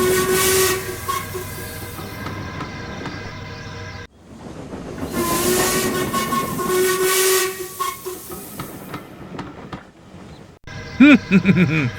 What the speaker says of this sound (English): Gordon's speech was interrupted by a booming whistle in the distance. It grew longer and louder